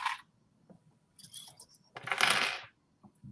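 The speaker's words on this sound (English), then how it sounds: "I'm going to grab some clips to hold this in place." Sewing clips are picked up from a work surface, making a few quick, close metallic clatters and light rattles in short bursts, with no talking.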